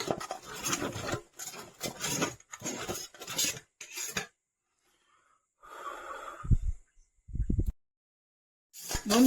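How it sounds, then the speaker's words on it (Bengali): Boiled potatoes drop into spiced masala in a village kitchen pot, a short burst of soft thuds and metal clatter after a stretch of talking and a quiet pause. "এবার আমরা আলু সিদ্ধ গুলো মশলার মধ্যে দিয়ে দেবো।"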